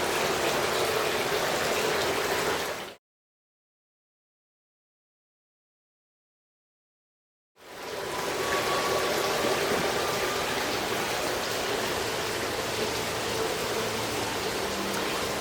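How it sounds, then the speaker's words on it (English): Steady rushing splash of a fountain waterfall on a patio, constant and close, cutting out to silence for several seconds before resuming just as evenly. "This portion of the fountain patio is called the waterfall patio."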